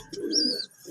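Parent pigeons feeding their chicks make a short soft cooing call with a thin high squeak, close and brief.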